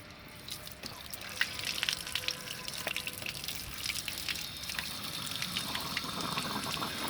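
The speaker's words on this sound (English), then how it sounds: "we're gonna put water inside this tube over here" Water running and trickling into a removed car radiator hose during a coolant flush, a steady close-up pour with small splashes and drips throughout, no talking.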